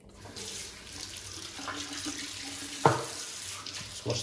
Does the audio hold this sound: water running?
yes